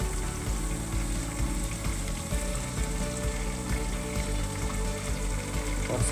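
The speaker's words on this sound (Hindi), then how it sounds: "चलाते रहें ताकि चिकन कढ़ाई से चिपके नहीं" Chicken stir-fried in a kadai for a home-style chicken masala sizzles and crackles steadily and loudly, with faint stirring scrapes throughout and no talking.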